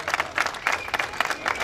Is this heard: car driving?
no